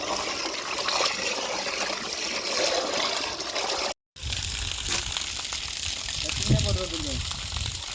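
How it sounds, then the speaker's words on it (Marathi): Water poured into a large pot of mutton cooking over a village wood fire, giving a steady splashing trickle up close, with a brief break partway through and faint voices in the background. "पाणी नका जास्त टाकू त्यात पाणी होईल"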